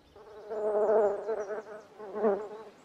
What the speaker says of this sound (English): the bumblebee